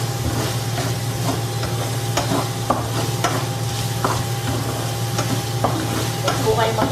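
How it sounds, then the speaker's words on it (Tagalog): Onions for chicken pastel fry in a hot pan with a steady, loud sizzle, while a utensil stirs them in repeated scraping strokes. The frying noise holds throughout, and nobody talks. "Ilagay na po natin yung sibuyas."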